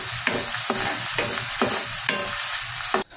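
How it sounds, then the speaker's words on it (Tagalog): Mushrooms being sautéed in a pan, with a steady loud sizzle and regular scraping stir strokes about every half second, cutting off abruptly near the end. "Ilagay na natin yung mushroom at igisa natin."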